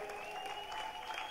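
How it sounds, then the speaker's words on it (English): A church congregation claps together in a short burst of steady, moderately faint applause with a room hum beneath it. "Let us clap to the Lord."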